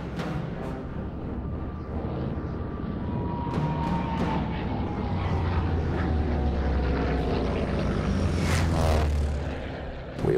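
Vintage World War II aircraft, a Junkers escorted by fighters, drone past with a steady, loud propeller engine roar that swells and shifts in pitch as they fly by.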